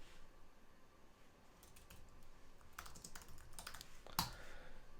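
Keystrokes on a computer keyboard, scattered taps building to a quicker burst near the end, faint and close with no talk.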